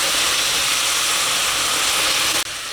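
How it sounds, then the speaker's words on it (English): White cooking wine hitting a hot pan while braising pork belly, a loud, steady hissing sizzle that cuts off abruptly near the end. "here I'll add 2 tablespoons of white cooking wine"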